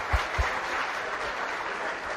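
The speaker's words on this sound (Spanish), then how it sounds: "un aplauso en despedida a él" Audience applause at a university geopolitics event, a steady wash of clapping held at a moderate level for the whole stretch, with two soft low thumps near the start.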